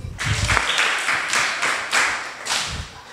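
A classroom of students clapping in short rhythmic bursts, a few loud synchronized claps close by with brief gaps between them.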